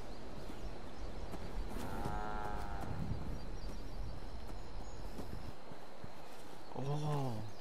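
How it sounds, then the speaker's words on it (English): A cow moos in the Fallout 76 video game, a short, fairly loud low call near the middle and a second near the end, over steady game ambience. "Oh, that's not a horse, it's a cow."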